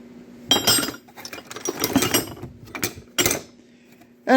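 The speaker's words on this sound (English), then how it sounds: "And then there's a few great big old wrenches in here." Big old metal wrenches clink and rattle as they are picked up and handled, a run of close metallic knocks and scrapes with a louder clank at the end.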